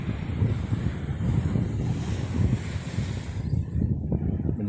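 Sea waves wash onto a beach in a steady, rolling roar of surf, close and fairly loud, with wind buffeting the microphone and no voices.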